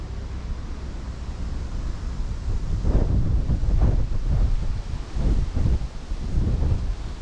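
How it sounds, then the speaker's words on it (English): Strong wind roars and buffets the microphone continuously on the seafront in Trieste, Italy, with gusts swelling midway, over a low wash of choppy sea noise. "you see on the sea that it's very, very windy today"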